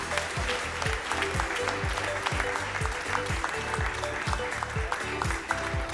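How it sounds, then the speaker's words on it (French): Applause from an audience at an award ceremony forms a steady bed of clapping, while music with a regular beat plays loudly alongside. "Et vos applaudissements."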